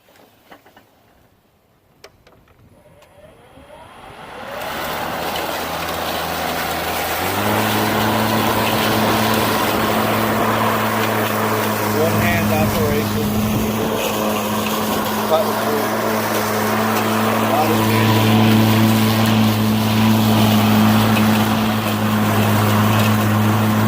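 A Makita X2 18-inch steel deck cordless lawn mower starts up after a quiet moment, then runs with a steady electric motor whine and blade hum while mowing grass, loud and close for the rest of the clip.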